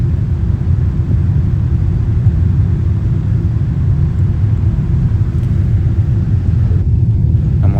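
Emirates flight EK545 landing at Dubai after a journey from Chennai, heard from inside the cabin as a loud, unbroken low roar of engines and airflow, with no speech.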